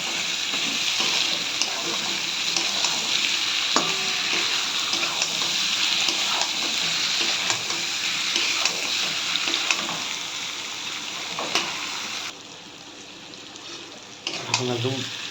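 Lote dried fish stir-fried in a pan gives a continuous close sizzle with occasional scraping stirs, then cuts out briefly before a short burst of clattering near the end.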